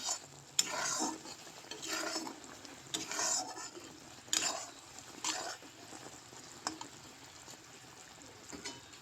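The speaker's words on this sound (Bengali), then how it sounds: "তো ভালো করে মিশিয়ে নেব" Pickle mixture is stirred in a pan for a homemade pickle, giving repeated scraping strokes with a faint sizzle between them, close and moderately quiet, with no talking.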